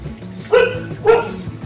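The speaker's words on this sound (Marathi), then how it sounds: "इकडे वरती मंदिराकडे पूर्ण सेफ्टी ठेवली आहे दोन तीन कुत्रे पाहून ठेवलेत" Two short dog barks ring out about half a second apart near a temple entrance, fairly close and clear over a quiet background.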